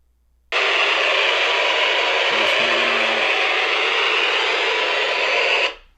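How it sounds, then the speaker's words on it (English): A COTRE two-way radio walkie-talkie hisses with steady, loud broadband static while its monitor button is held. The static starts abruptly, runs for about five seconds with a brief faint click midway, then cuts off. "you press this monitor and you hold it, and you'll hear static"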